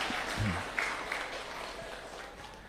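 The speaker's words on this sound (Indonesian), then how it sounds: "Tepuk tangan." Moderate, fairly faint clapping from an audience at an Indonesian religious lecture, a continuous patter that gradually softens over a few seconds.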